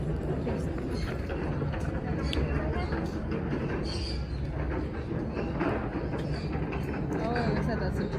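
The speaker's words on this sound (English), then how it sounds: "Oh, looks like that's a train." A train passing near a bird farm gives a continuous loud rumbling roar with some rattling, steady throughout and partly mixed with wind, while people talk close by.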